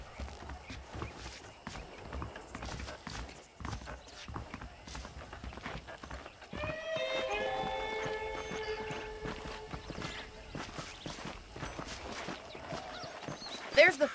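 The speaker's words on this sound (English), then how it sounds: "The horses are saddled up over here." Horse hooves clip-clop on dirt in the Red Dead Redemption video game, a rhythmic walking beat that continues throughout, joined midway by a brief horse whinny and a voice talking over the hoofbeats.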